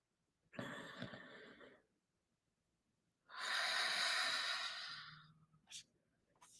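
Two long, deep breaths drawn close and clear, a slow airy inhale followed after a pause by a fuller, louder exhale, then a brief soft sniff, in an otherwise quiet room.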